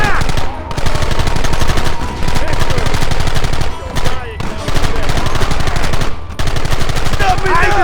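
Dense machine gun bursts and rapid gunshots rattle loudly and almost continuously in the video game Red Dead Redemption, broken by a few short pauses, with shouted voices mixed in.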